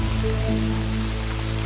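Steady rain falling on an archaeological dig site, a dense continuous patter with low droning hum underneath, loud and unbroken for the whole stretch with no talking.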